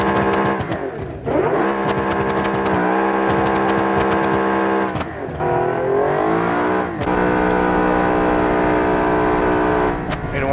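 The Voltus Venom Turbo, a car in the game Automation, revs hard and loud through repeated gear shifts, its engine note climbing, briefly dropping with each change, then pulling strongly again in a steady stream.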